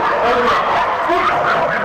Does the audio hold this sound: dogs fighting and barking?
yes